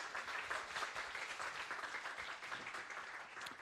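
An audience at an evening talk event on racism in Estonia gives warm applause, a dense steady clapping from many hands that carries on throughout.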